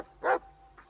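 A dog in the Blair Witch horror video game gives one loud, sharp bark up close, then a short fainter yelp follows a moment later.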